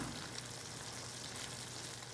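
Mixed vegetable curry sizzles steadily in a hot pan as it is stirred, a soft, continuous frying hiss with no voices.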